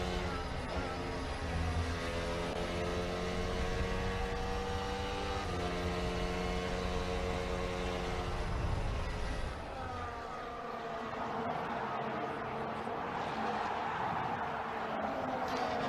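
Onboard engine of a Formula 1 car racing at Silverstone during the 2022 British Grand Prix. A loud, continuous high-revving whine climbs and drops through repeated gear changes, then settles into a steadier, slightly softer drone.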